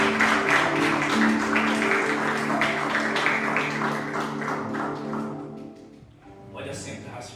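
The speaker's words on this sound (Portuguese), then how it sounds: "Você pode aplaudir o Senhor fortemente." A church congregation applauds strongly, a broad wash of clapping that fills the room over sustained keyboard music, with voices also present; it thins out toward the end.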